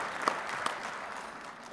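Audience at a school accreditation event clapping softly, a few sharper claps standing out from a faint, thin patter.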